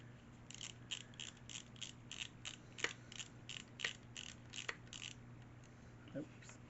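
Small screw driven into a plastic part of a Hachette VF-1 Valkyrie model kit, heard as a quiet run of rapid ratcheting clicks from a close screwdriver, with a few sharper ticks and a steady low hum underneath.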